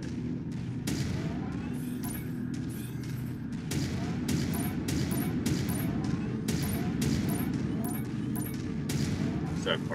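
AC2 autocannons chain-fire in MechWarrior 5, a rapid, steady stream of loud cracking shots with booming impacts on buildings throughout, with a voice talking over the gunfire.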